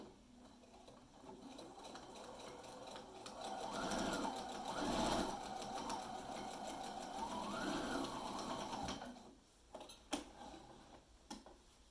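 A sewing machine stitches across fabric for a fat quarter bag, a quiet close rhythmic whir running steadily for several seconds before stopping, followed by a few small clicks.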